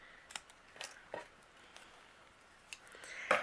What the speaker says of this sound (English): I can take my scissors and I will just trim off the left and the right